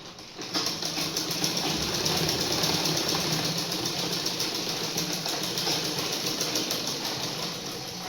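Close and loud, a sewing machine stitches a half-inch seam joining two fabric pieces, running as a continuous rattling hum with rapid needle clatter for nearly the whole clip.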